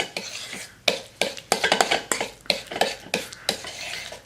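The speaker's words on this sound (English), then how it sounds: "just mash this into your mayonnaise mixture" Deviled egg yolks being mashed into a mayonnaise mixture, a fast irregular run of close scraping and tapping of a utensil against a bowl.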